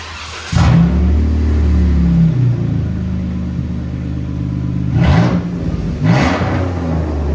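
A loud, throaty 3.6L V6 engine of a 2014 Jeep Wrangler Rubicon with straight pipes, on a lift, idles rough and rumbling, then revs hard twice near the end, close by with no talking.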